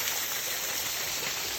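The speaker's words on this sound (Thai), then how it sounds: "นี่จะพาเบิ่งน้ำตกตาดโตนดู" Tad Ton waterfall at Ban Wai Ha Di pours in a steady, full rushing roar of falling water, dense and unbroken from start to finish with no voices.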